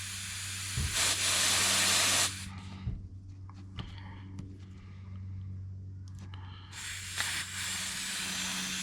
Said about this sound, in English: What I could do is test it with the compressed air as the input.